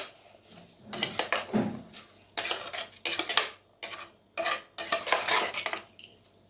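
Prawn biryani being stirred in a pan as rice goes into the gravy, with repeated scraping and clinking bursts of a spoon against metal, close and fairly loud, coming in uneven strokes with short pauses between them.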